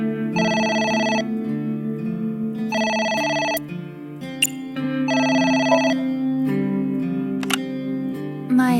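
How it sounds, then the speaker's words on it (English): A telephone rings in AI: The Somnium Files, three bursts of electronic trilling ringing separated by pauses, loud over a low background music drone. "It's the phone. Maybe try picking it up?"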